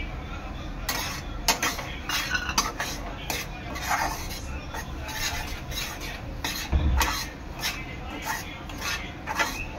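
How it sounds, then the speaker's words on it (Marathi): Dry semolina is roasted in a hot kadhai, and a spoon scrapes and stirs it in a repeated rhythm of rasping metal strokes at close range. "यामध्ये मी आपला रवा भाजून घेणार आहे।"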